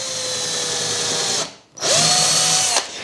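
Power drill boring into a combat robot's 6 mm plate, two loud close bursts of whining motor with a brief stop between them, the second run rising sharply in pitch before cutting off.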